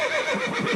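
A human voice imitates a horse's whinny, a wavering, shaky neigh held for under a second, loud and close.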